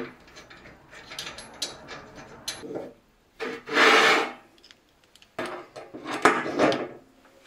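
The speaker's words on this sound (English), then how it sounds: "And we'll start by taking off the tool head." Parts being removed from an old line-scribing machine while it is stripped down: scraping, rasping and rubbing of metal parts, in bursts with pauses between them, heard close and with no talk.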